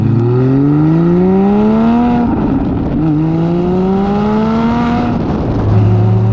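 A Porsche GT4 engine and exhaust burble loudly and close, revs rising and falling in two long sweeps before settling into a steady idle.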